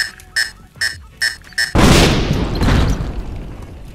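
Big explosion in the video game Beasts Of Prey, a sudden loud boom that follows a few short clicks and game sounds, then rumbles and decays over about two seconds.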